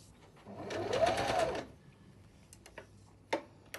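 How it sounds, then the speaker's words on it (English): A sewing machine stitches a sleeve onto a blouse in one short, close, steady burst of about a second, followed by quiet handling clicks. "I start to sew it."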